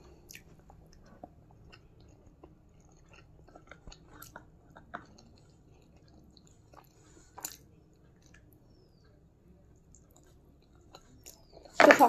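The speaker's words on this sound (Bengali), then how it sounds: "আমি তো এখন খাচ্ছি" Close, quiet chewing and biting of a home-cooked meal, with soft irregular mouth sounds and occasional crunchy bites over near silence, ending in a brief louder rustle.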